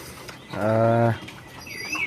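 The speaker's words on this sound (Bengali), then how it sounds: "কবুতরগুলো আজকে বৃষ্টিতে ভিজছে প্রথম।" Pigeons on a rooftop loft in the rain: one drawn-out, resonant coo stands out near by, over a soft patter of rain.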